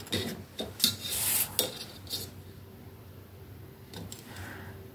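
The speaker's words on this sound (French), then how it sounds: "Et là on coupe." Scissors cut paper for a happy mail pouch craft, a few short rasping snips and rustles up close, then a quieter stretch with light handling noise.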